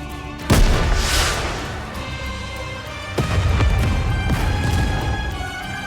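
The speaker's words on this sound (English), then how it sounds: "a shell flies from the rocket launcher. And a resounding explosion causes the entire snowfield to be blanketed in thick plumes of white smoke." In the NIKKE game, a rocket launcher shell explodes over a snowfield. A heavy boom is followed by a rumbling tail, and a second blast comes a few seconds later under continuous battle noise.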